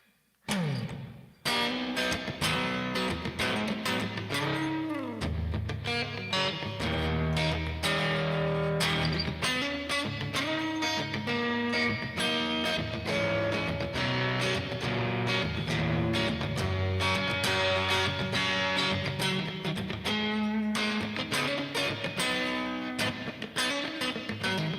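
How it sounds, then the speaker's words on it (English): Electric guitar played live through a patch with a little reverb added, a continuous loud run of distorted notes and chords with dense, sustained texture and no talking. "Just added a little bit of reverb."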